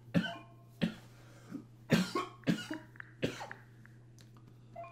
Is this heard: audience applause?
no